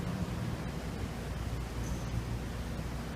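Wave-making machine for the Biosphere 2 indoor ocean: a steady, broad, low rushing wash of water and machinery, moderately faint and continuous with no talk.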